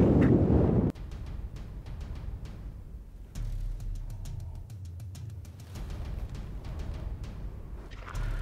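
Wind gusting across open ice during an ice fishing outing, a steady low rumble and buffeting with occasional thin rattling, fairly quiet and continuous with no talking.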